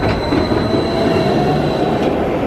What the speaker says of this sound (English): This is like the 5th train that's come through.